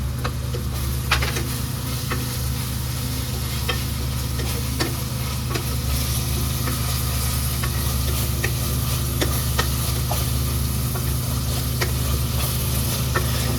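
Mint leaves and green chillies sizzle steadily in hot oil in a pan for mushroom biryani, with a constant frying hiss and occasional scrapes and clicks of a stirring spoon throughout.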